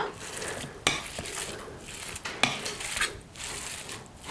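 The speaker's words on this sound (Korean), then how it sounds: "그래서 감자 으깨는 매셔라고 하죠. 이것으로 한번 곱게 더 곱게 으깨 보도록 하겠어요." A potato masher works through tofu scramble in a bowl, giving soft, squishy mashing with a few sharp clicks and taps against the dish, fairly quiet and close, with no voices.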